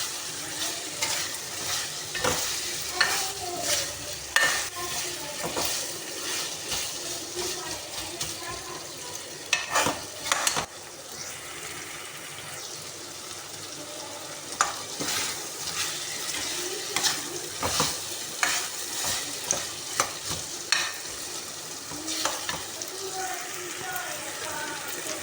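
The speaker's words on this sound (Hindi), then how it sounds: "देखें अरबी हमारी उसी मसाले में फ्राई हो रही है।" Taro root (arbi) frying in spice masala in a pan, a steady sizzle broken by repeated scraping stirs and clanks of a spoon, with occasional brief talk under the cooking sounds.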